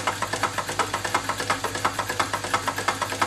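A Wilesco D22 twin-cylinder model steam engine runs steadily, giving a fast, even chuffing pulse over a constant mechanical hum, loud and close, with no voices.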